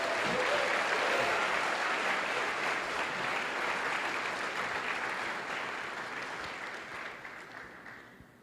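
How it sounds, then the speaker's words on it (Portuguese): A conference congregation at a church service applauds the Lord, a broad wash of clapping that starts full and loud and then slowly fades toward the end, with no voices over it. "Alguém consegue aplaudir o Senhor com vontade nessa conferência?"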